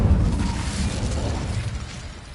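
Incendio fire spell cast in a wizard video game, heard as a loud, close burst of flame with a whooshing, crackling roar that peaks at once and then slowly fades.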